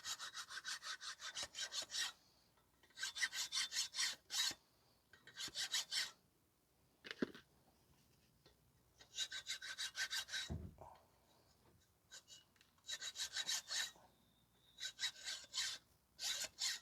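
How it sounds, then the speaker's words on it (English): An old saw blade scrapes rust and debris from the brake pads of a 2020 Honda CR-V 1.5, giving bursts of rapid, gritty back-and-forth rasping separated by quiet pauses, close to the listener and unaccompanied by speech. "you can use like a saw blade or something like this to clean the pads out"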